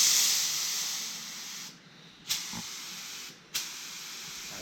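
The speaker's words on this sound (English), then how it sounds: "probably next shot will be Aaron spraying some primer on this thing." Spray gun hissing primer onto a Firebird car, a steady close airy hiss that cuts out twice, each restart marked by a brief sharp burst.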